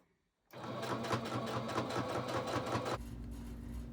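A sewing machine stitches fabric for a bandana pillow, a close rapid rhythmic whirring clatter that starts abruptly and runs about two and a half seconds before dropping to a lower hum.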